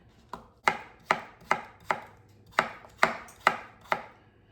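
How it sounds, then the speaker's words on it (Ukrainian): A knife chops a quartered cucumber on a board in eight crisp, evenly spaced strokes, close and clear with no talking. "Перерізаємо його на четверо і ось так будемо його подрібнювати."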